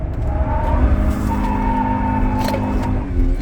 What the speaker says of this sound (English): That one inside wheel was just straight ripping.